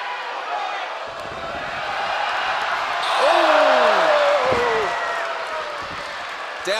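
A pro wrestler hits the mat at a SLAM! Pro Wrestling League event, a heavy thud under an excited commentator's voice, with crowd noise swelling and whoops rising around the impact.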